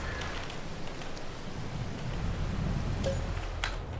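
Rain falls in the farming game Farming Simulator 22, a steady, even patter of drops on surfaces with no voices.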